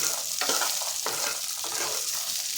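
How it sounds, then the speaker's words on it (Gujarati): Green peas sizzle and fry in hot oil in a pan, a steady close crackle with several stirring scrapes spread through it; no voices. "આપણે આ રીતે અહીંયા તેલમાં કૂક કરીશું તો સરસ રીતે આપણા વટાણા કૂક થઈ જશે"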